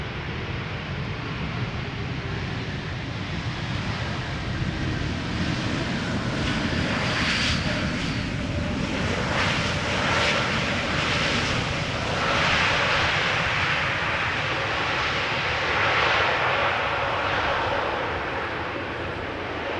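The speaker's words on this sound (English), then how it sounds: "This is JetBlue arriving from Boston, Massachusetts, A321neo" A JetBlue Airbus A321neo arriving from Boston roars steadily at Schiphol Airport, a broad continuous engine rumble and rush that holds for about twenty seconds with slight swells.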